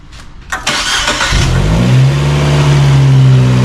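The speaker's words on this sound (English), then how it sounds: "Okay, I'm turning on the car." A Fiat 124 engine cranks with a few quick clicks, then catches and settles into a steady idle, loud and close.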